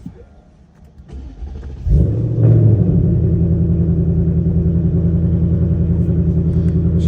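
A Ford Mustang's engine cranks and catches near the two-second mark, then settles into a loud, steady, deep idle rumble that continues close by to the end.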